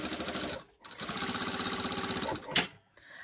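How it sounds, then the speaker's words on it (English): A sewing machine stitches through a zipper fly and fly extension, a close, rapid whirring burst, a brief pause, then a longer run of fast stitching ending in a sharp clunk. "I'm only sewing through that little bit of fly and my fly extension."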